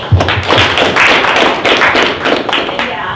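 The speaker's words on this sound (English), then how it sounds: "So give Shelly a round of applause" A round of applause at a real estate sales meeting, a short burst of close, uneven clapping with thumps and taps, loud and near, with a few voices underneath.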